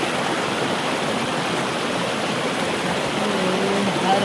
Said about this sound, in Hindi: इतना अच्छा झरना है